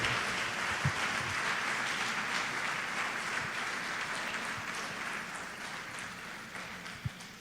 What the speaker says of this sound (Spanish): ¿Quién puede levantar un aplauso para glorificar al Rey de Gloria?